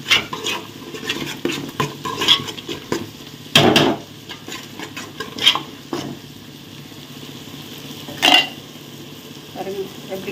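Chili powder masala for a prawn biryani is stirred in oil in a metal pan, with repeated scraping and clanking of a spoon against the pan over a low sizzle, a few sharp louder knocks standing out.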